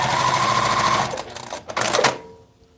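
A sewing machine stitches fabric onto a shirt sleeve, running with a close, steady whirring hum for about a second, then stopping with a few clacks and mechanical clicks before falling quiet.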